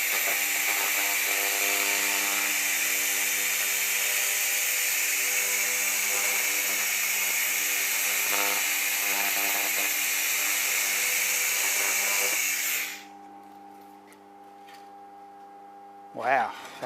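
AccTek 1000W fiber laser cleaning machine scanning metal, a loud steady high-pitched whine over a hum that cuts off abruptly near the end, leaving a quieter tonal hum.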